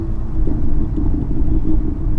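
A 365-horsepower BMW M2 with a manual gearbox drives along as the driver shifts up a gear, its steady low engine rumble and road noise filling the cabin loudly and continuously.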